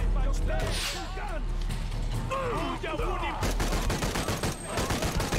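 Rapid gunfire from a Shadow of the Tomb Raider firefight, loud bursts and shots packed together across the whole stretch with game sounds and voices underneath.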